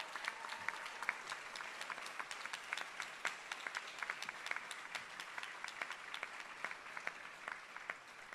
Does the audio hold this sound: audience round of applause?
yes